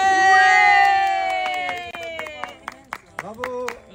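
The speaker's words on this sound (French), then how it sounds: "Milo, applaudis." Children and adults clap and cheer at a birthday candle blow-out, a strong burst of cheering and applause at the start that thins into scattered claps and excited shouts.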